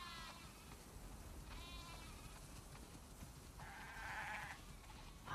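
A flock of sheep bleats inside the video game The Last of Us Part II, several drawn-out, wavering calls arriving one after another, the last one loudest and nearest, over a soft constant background.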